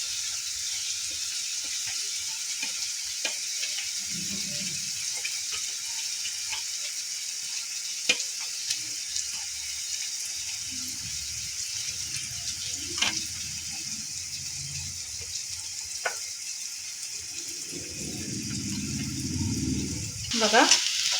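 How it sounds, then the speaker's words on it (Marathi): Onion sautés in a pan for a paneer filling, a soft continuous sizzle with occasional scrapes and clinks of stirring, and a brief louder burst near the end. "आपला कांदा तिकडे परतून होतोय"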